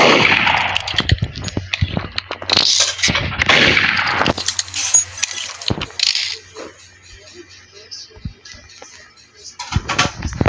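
Gunfire in a video game, a burst of rapid shots in the first seconds followed by scattered single reports, mixed with a player's excited talk.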